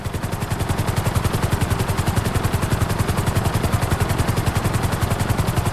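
A helicopter in GTA 5 flies at full speed with its nose tipped down, its rotor beating in a steady, rapid, loud thump that runs unbroken throughout, with no talking.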